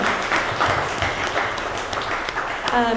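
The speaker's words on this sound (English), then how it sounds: "Yes, round of applause." Audience applause after an art, culture and sustainability talk, a dense wash of clapping that fills the moment at steady strength with some voices mixed in.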